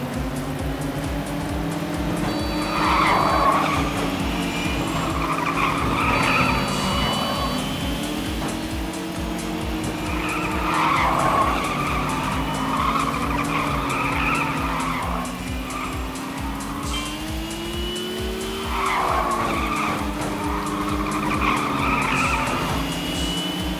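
Race cars skid in the top-down video game Little Racers Street, with repeated tire squeals in waves over a steady engine drone.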